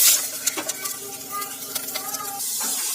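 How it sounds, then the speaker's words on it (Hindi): Khoya roasts in desi ghee for gajar ka halwa with a soft crackling sizzle and irregular spoon scrapes and taps against the pan, close up and without talk. "तो इस तरह से ये मैं भून चुकी हूँ घी में"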